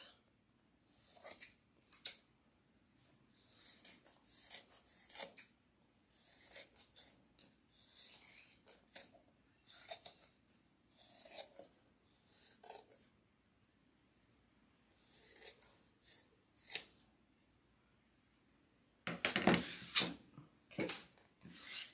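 Scissors trim material for a sewn Victorian witch wreath hat, close and crisp, snipping in short bursts of rapid cuts separated by pauses, ending in a denser flurry of cutting.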